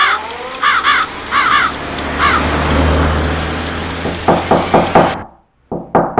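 A series of loud, close knocks on a door arrives in a rapid cluster near the end, following a stretch of cawing crows and low outdoor rumble.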